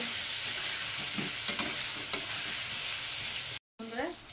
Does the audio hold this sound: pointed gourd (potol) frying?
yes